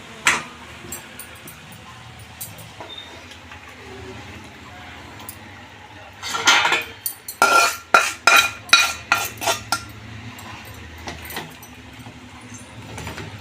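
Peanut chikki mixture being spread and pressed into a mold with a metal utensil, quiet scraping that turns into a run of loud, rhythmic clanking scrapes and taps partway through, close by.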